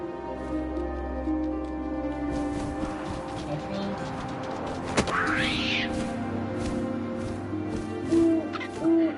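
An owl hoots in a quiet outdoor night setting, soft wind beneath it, with a brief sharp knock midway and a few more distant hoots near the end.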